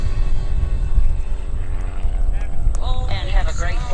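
A helicopter in a low pass down the show line at the 2013 Lehigh Valley Airshow, flown as Otto the Helicopter, its steady rotor roar rising as it nears amid wind noise, with a brief whine and warbling tones toward the end.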